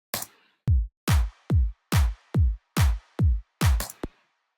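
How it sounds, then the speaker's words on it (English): An EDM house drum beat: deep kick drum hits at a steady tempo, with bright, snappy claps stacked on the 2 and 4 beats, punchy, close and with no other sounds. "A lot of times, claps and snares, especially in house music, are going to be on the 2 and the 4 beat of that bar."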